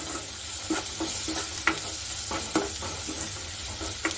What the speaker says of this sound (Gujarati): હવે તેને સારી રીતે બધું જ મિક્સ કરી લઈશું